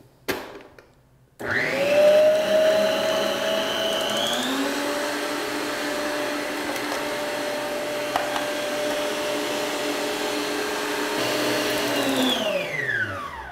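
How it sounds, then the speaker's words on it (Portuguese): An electric stand mixer beats cake batter, starting with a click and then holding a loud, steady whirring motor drone that winds down at the end. "não precisa nem desligar a batedeira"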